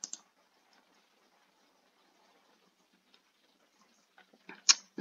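A few sharp computer mouse clicks, mostly grouped near the end after a stretch of near silence, faint and close.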